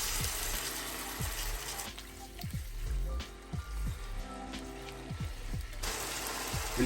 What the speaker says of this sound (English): We'll add a little water to give a quick mix.